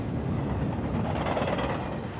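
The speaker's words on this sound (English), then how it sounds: "or a train up there." A train passing in the distance, caught by a directional microphone aimed at it, gives a steady broadband rumble with a faint rhythmic rattle of rail cars, held at an even level throughout with no talk.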